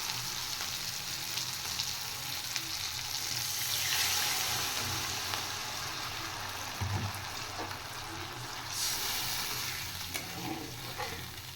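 Water is poured into a frying spice masala of tomato and oil for a Bengali fish curry, a faint steady hiss and sizzle with soft splashing and stirring close by.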